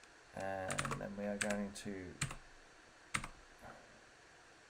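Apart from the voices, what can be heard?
typing on a computer keyboard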